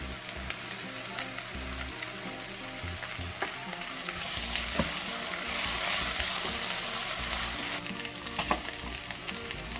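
Shiitake mushrooms fry in oil in a pan for a seafood stir-fry, a continuous crackling sizzle with scattered pops and stirring sounds, fairly close and steady.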